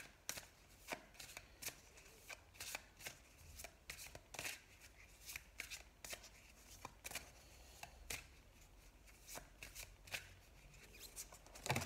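Tarot cards shuffled over and over in quick, crisp riffles and slaps, close but soft, with no voices.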